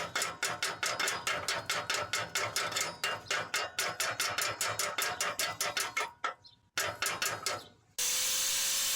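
Rapid, regular hammer strikes ring out on a car's metal exhaust flange in a steady rhythm, pausing briefly before a few more blows, then a harsh noisy burst.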